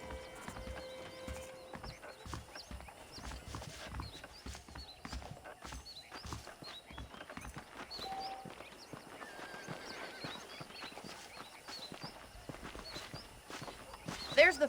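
Saddled horses in the Red Dead Redemption video game: hooves clip-clop in a steady walking rhythm with a whinny or two, fairly quiet and close, with faint game voices and ambience beneath.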